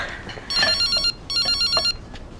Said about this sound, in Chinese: 接个电话。